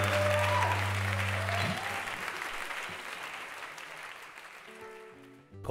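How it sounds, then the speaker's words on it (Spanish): Audience applause after a live concert performance at Sala Galileo, loud and dense at first, then gradually thinning and fading out, with a bit of music or voice at the very end. "Fuerte aplauso para los chicos."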